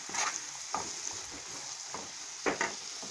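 Margarine frying in a pan for farofa sizzles with a soft, steady hiss, broken by several light scrapes of stirring, fairly quiet and with no voices.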